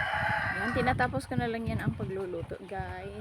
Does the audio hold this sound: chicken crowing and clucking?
yes